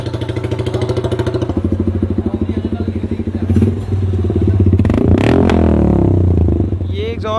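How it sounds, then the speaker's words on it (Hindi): Motorcycle fitted with an aluminium SC Project CNC exhaust, running loud and steady at close range, with a throttle rise toward the end and some clatter over the engine. "ये एग्जॉस्ट थोड़ा सा लाउड है,"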